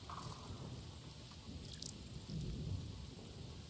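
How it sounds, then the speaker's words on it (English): Steady rain hisses with a low thunder rumble in the Borderlands video game, a constant wash of rainfall that swells slightly toward the end, heard alone with no talk. "I like the rain. It's a good new addition to Borderlands."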